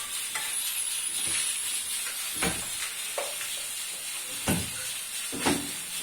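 Onions softening as they fry in a pan for a Pakistani sehri meal, giving a steady quiet sizzle with occasional soft stirring scrapes and clinks.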